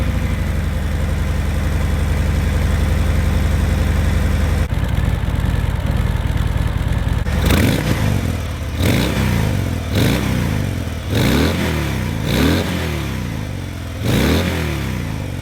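A stock-exhaust 2019 Harley-Davidson Fat Bob 114 idles with a deep, loud rumble, then is revved hard six times in a row, each throttle blip rising and falling back to idle, close up.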